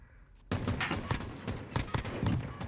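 Rapid, dense automatic gunfire in Call of Duty Modern Warfare breaks out suddenly after a quiet moment, a loud continuous fusillade of cracking shots with irregular bursts.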